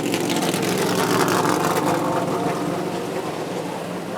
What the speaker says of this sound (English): you hear that noise that we just passed? Yes, that's because cars are being tuned up.